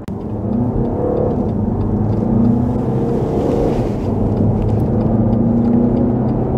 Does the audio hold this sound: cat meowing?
no